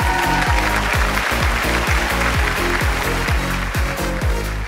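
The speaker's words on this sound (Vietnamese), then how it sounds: "Một lần nữa chúng ta hãy cùng dành một tràng pháo tay thật nồng nhiệt" An audience at a Vietnamese stage event gives dense, sustained applause, loud and close, a continuous wash of many hands clapping with rhythmic low thumps running beneath it.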